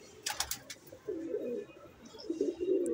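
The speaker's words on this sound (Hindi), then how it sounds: "ये कबूतर देख लो भाई आप" A pigeon coos softly and close in two low, throaty phrases, preceded by a few brief higher chirps, with no talking.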